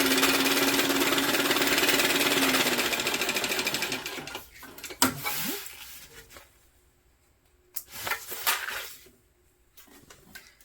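A sewing machine bastes a travel bag panel, running in a loud, steady whirring burst for a few seconds, then stopping and starting in shorter runs with quiet gaps and small clicks between them.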